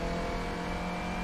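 A 2015 Clio Cup race car in the rFactor 2 sim racing game, with a six-speed H-pattern gearbox and around 220 horsepower, gives a brief, loud, steady high-pitched engine whine at high revs with no voices.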